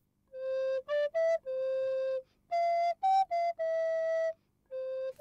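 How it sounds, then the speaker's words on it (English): A flute plays a simple tune of clear sustained notes and quick short ones in separate phrases, pure and whistle-like against a quiet background. "After a while, Wolleke is able to whistle a tune."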